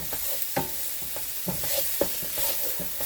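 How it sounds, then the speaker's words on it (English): Freshly chopped garlic sautéing in a pan for chicken Marsala, a moderate steady sizzle with several scraping stirs of a utensil against the pan, close and without talk. "I am going to add my garlic that I just chopped up, and we're going to cook it, not even a minute"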